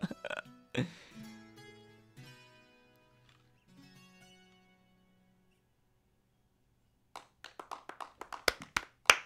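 A handful of sparse, uneven hand claps from a few characters in The Witcher video game near the end, after some soft electronic game tones, sounding thin and unenthusiastic.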